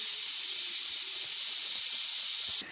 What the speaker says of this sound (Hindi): अब इसकी ये जो हवा है ये ख़त्म होगी, तो इसके बाद जो है हम प्रेशर कुकर को ओपन करेंगे।